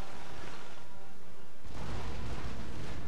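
Naval cannon fire in the Empire: Total War sea battle between Spain and France, a sudden heavy broadband boom about halfway through that rumbles on loud and sustained to the end.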